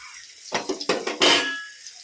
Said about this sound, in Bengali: আর মাংসটা তো স্নানের আগেই ধুয়ে রেখেছিলাম এখন একটু ধুয়ে নেবো আর একবার